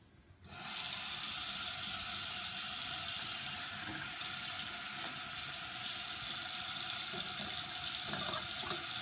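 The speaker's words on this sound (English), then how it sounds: "So wash your hands." Tap water runs steadily over hands being washed at a sink, starting abruptly after a short quiet moment and continuing as a close, even splashing stream with slight changes as the hands move, no voice heard.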